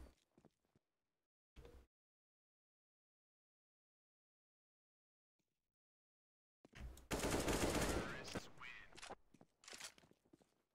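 Automatic gunfire in Counter-Strike 1.6 during a one-on-one match: a short burst early, a long silent stretch, then a loud, dense volley of rapid shots lasting several seconds before tapering off.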